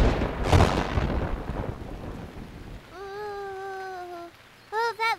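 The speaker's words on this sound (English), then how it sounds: "that lightning came really close, didn't it, Mumu?" A cartoon thunderstorm with a loud rumble of thunder and steady rain falling, fading out into a sung melody and squeaky cartoon voices.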